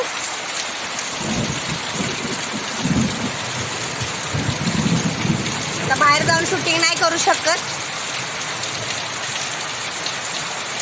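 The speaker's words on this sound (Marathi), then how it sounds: "आज एकदम मुसळधार पाऊस आला आणि सगळं वातावरण गारगार झालं" A heavy monsoon downpour during Shravan over a rural Maharashtra farm hisses steadily while low thunder rumbles roll in the background, and someone talks over the rain.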